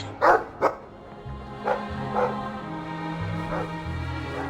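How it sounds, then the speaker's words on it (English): A dog in the Dragon Age II role-playing game barks several times: two sharp, close barks, then softer yips and whimpers over a low, droning game soundtrack. "Well, woof to you too."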